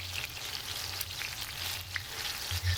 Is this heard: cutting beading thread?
no